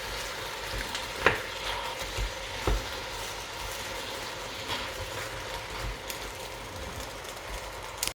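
Chunky onions frying in a pan give a steady low sizzle, broken by a few sharp clicks of a utensil early on, with no voices.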